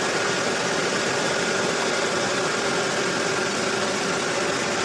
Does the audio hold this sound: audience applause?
no